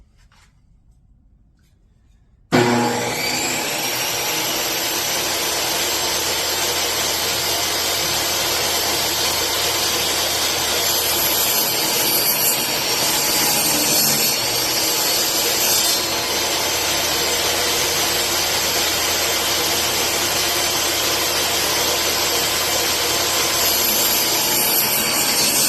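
A power saw cuts through a wooden fence picket for a soap dish, starting abruptly after near silence and running as a loud, steady, close whine for over twenty seconds with a slight change in pitch midway.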